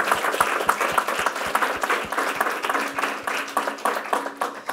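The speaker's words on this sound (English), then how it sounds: "let's give her another round of applause." A lecture audience gives the speaker another round of applause at the close of a talk, with sharp individual claps standing out from a full, steady wash of clapping that keeps going throughout.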